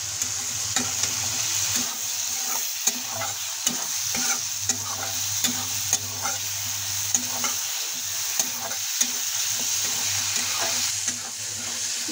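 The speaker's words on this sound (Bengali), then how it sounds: "আমি ভালোভাবে ভেজে নেব" Masala spices frying in a pan for a vegetarian aloo gobi, a steady close sizzle with repeated sharp scraping and stirring clicks as the mixture is worked, no voices.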